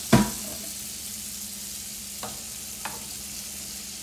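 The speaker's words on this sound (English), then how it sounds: "So I'm gonna add my butter in here." Three tablespoons of butter melting in a hot pan give a soft, steady sizzle. A sharp clank opens the sound and two light scrapes from stirring follow later. Nobody speaks.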